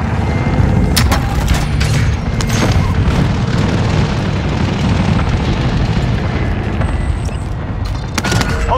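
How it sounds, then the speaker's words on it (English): An airstrike in Call of Duty: Modern Warfare's Plunder mode pounds the area with loud, continuous booming explosions that rumble heavily and unbroken, with sharper blasts cracking through the roar. "Designating airstrike target."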